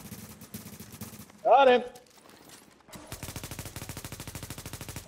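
Rapid automatic gunfire in The Division, a burst early on, then a long steady rattling stream of shots near the end, with someone briefly speaking in between.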